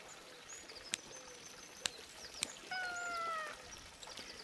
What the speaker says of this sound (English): I hear the kitty cat again.